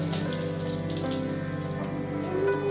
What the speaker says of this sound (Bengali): পাঁচফোড়নটাকে ভেজে নিব একটা স্মেল আসা পর্যন্ত